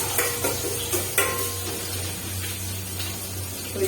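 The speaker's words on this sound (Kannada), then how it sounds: "ಕೊತ್ತಂಬರಿ ಚೆನ್ನಾಗಿ ಫ್ರೈ ಮಾಡ್ಕೊಳ್ಳಿ" Coriander frying in a pan in a home kitchen, a steady low sizzle with occasional scraping stirs and light clinks of a utensil against the pan, close by and without speech.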